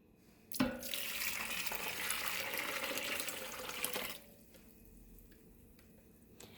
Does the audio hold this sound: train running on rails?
no